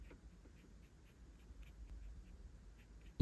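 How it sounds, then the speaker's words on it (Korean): Pencil shading the shadow beneath a drawn nose, a faint, close scratchy rasp of soft repeated strokes over paper, quiet and steady, ending in a brief louder bump. "이 아래 면적 부분을 색을 칠해줍니다."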